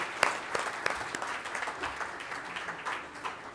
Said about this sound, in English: We definitely need to give this organization a big, big round of applause, ladies and gentlemen.